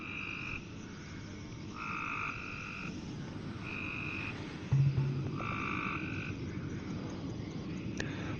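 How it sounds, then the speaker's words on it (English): Frogs croaking at night beneath a porch, a dense chorus of steady repeated calls with a brief louder thump midway, heard from nearby with a constant low background rumble and no voices. "All you can hear is frogs."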